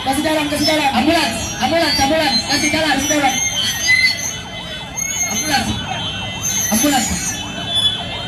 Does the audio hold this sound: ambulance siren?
yes